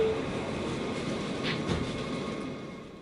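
A Jamaica-179th-Street-bound New York subway F local train rumbles steadily at close range, with a constant roar and a faint high squeal, and no talk.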